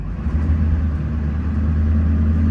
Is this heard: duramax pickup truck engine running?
yes